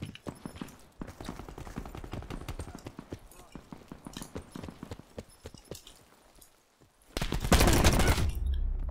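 Rapid gunfire in Black Ops 4, dense bursts of sharp cracks and clattering shots in quick succession, with a brief lull near the end before a loud, sustained blast of firing.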